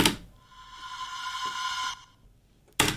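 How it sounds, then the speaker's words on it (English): A long, sustained, smeared vocal tone hangs like a drone, a human scream time-stretched into an elongated wail, fading after about two seconds before a sudden burst returns. "it's something that's built up out of a human scream, but stretched really long"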